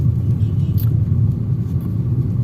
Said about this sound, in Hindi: देखो, मैं 5 नंबर में चल रहा हूँ और अभी भी गाड़ी में कोई नॉकिंग नहीं, एकदम आराम से खींच रहे हैं।